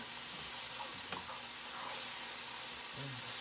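Ground meat browning in a pan for a turkey chili, a steady, fairly quiet sizzling hiss with faint clinks of stirring throughout.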